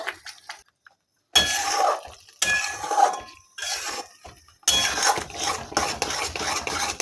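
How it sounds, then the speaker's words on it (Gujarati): A spoon stirs wheat flour sheera in a pan, scraping and clinking against the metal in several loud bursts separated by brief pauses. Close and alone, with no voices. "તો હવે ઘી છૂટું પડે ત્યાં સુધી આપણે હલાવતા રહીશું।"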